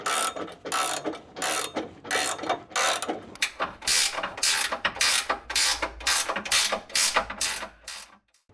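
Ratchet clicking in rapid bursts while tightening bolts into brackets on a Jeep JK, with steady repeated ratcheting strokes and short pauses between, close and fairly loud.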